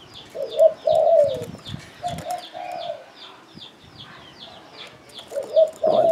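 A spotted dove gives repeated husky coos in short phrases, loud and close, while faint high chirps from other birds keep up in the background.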